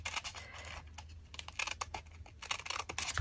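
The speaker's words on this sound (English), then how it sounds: "I'm just going to snip here like this at a diagonal." Scissors cut diagonally into paper during a crafting session, giving quiet, close snips and light papery rustles in short irregular bursts.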